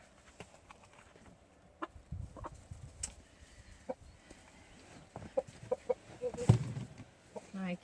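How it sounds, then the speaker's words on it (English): Jersey Giant chickens clucking softly on a farm, a few scattered clucks and short calls rising toward a livelier burst near the end, with light background rustle. "these are the Jersey Giant flock"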